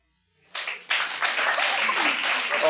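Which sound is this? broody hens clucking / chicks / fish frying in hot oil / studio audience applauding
studio audience applauding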